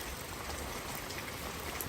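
Rain falls outdoors in a brief, even, close hiss of drops, with no voices.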